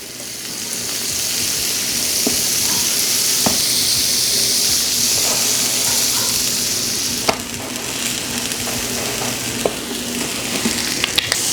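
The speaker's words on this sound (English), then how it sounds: "Let's get some down on the griddle." Country Crock Drizzle and Sizzle margarine sizzles and crackles loudly on a hot griddle for toasting sourdough bread, a steady close frying hiss with occasional sharp pops and scraping stirs.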